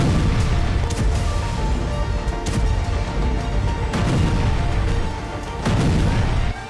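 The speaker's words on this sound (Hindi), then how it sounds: "आयरन स्टिंग रॉकेट की तरह ही गाजा की जमीन पर गिर रहा है और इस तरह के जोरदार धमाके हो रहे हैं" Loud booming blasts from bombing in Gaza, with several heavy detonations at irregular intervals over a dense rumbling, noisy background.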